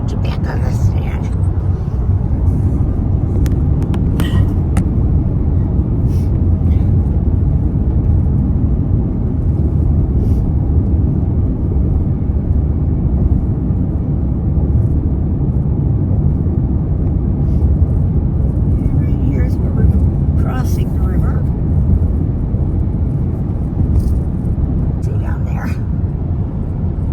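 Highway traffic with trucks passing heard from inside a moving vehicle, a constant low road rumble that swells slightly as they go by, while people talk quietly over it.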